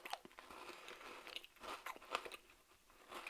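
Someone bites into a crunchy Butterfinger chocolate candy bar with peanut butter filling, faint close-up crackling crunches and chewing over about three seconds, with no talk.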